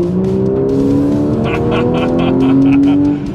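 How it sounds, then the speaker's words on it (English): Loud, throaty sports car exhaust in sport mode revving up with rising engine tones and crackling pops, with a voice faintly underneath. "It actually even sounds differently when I push this exhaust on button."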